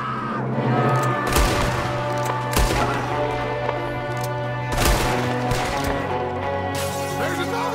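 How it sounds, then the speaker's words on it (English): Gunfire rings out in a Red Dead Redemption II shootout as a shooter fires from a window, with several loud cracks spaced a second or two apart over dense music and background din. "There's another one shooting from the window!"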